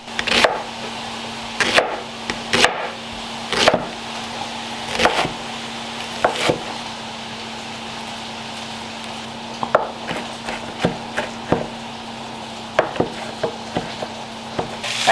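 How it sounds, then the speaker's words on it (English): A knife chops two onions and fresh rosemary on a board, giving sharp, irregular taps spaced a second or so apart. The taps are close but fairly quiet, over a low steady background hum. "I'm going to chop 2 onions and 2 tablespoons of fresh rosemary"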